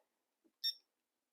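A single short, high electronic timer beep chirps once, faint and isolated in near silence beside a camping stove burner test.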